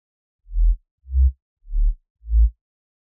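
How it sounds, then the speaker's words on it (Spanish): Four evenly spaced, rounded low synth bass notes from an FL Studio remix pattern pulse in a steady rhythm, with nothing else playing. "En el patrón 4 tenemos otro estilo de bajo"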